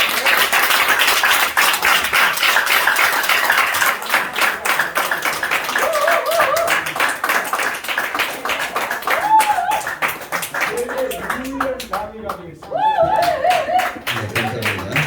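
Audience at a founding preparatory committee gathering in Jongno 5-ga, Seoul, clapping steadily and loudly throughout, with a few voices cheering and speaking over the applause toward the end.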